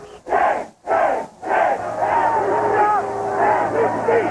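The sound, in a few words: protesters shouting along the presidential inauguration parade route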